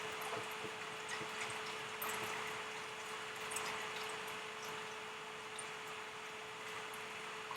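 Liquid pouring into an Instant Pot, a steady unbroken hiss and trickle of flow lasting several seconds, faint and even with a slight constant hum underneath.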